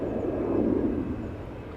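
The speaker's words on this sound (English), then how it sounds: "KLM flight 1251 is making its way over to the threshold." A KLM Boeing 737-800 jet taxis toward the runway threshold at Amsterdam Schiphol, a steady close engine rumble that swells slightly in the middle and then holds.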